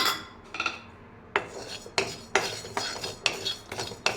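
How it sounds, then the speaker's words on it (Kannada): Cumin, fenugreek and fennel seeds are dry roasted in a pan, with a series of clattering scrapes and rattles of a metal spoon stirring them, close and fairly quiet. "ಇವಾಗ ಜೀರಿಗೆ ಮೆಂತ್ಯ ಮತ್ತು ಸೋಂಪು ಒಟ್ಟಿಗೆ ಹಾಕ್ತಿದ್ದೀನಿ"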